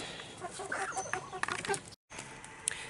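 Chickens cluck in short, repeated bursts nearby, several birds overlapping, with a brief dropout partway through.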